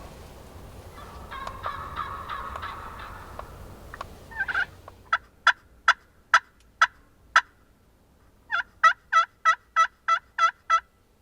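A wild turkey gobbler during Georgia turkey season sounds off with a run of sharp, rapid gobbles, loud and fairly close, in two bursts separated by a short pause, after a rougher stretch of rustling and bird sounds.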